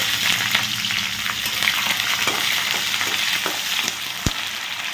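Capsicum fries in a hot pan, a steady, close sizzle broken by scattered pops and the scrape of stirring, with one sharp knock near the end and no talk.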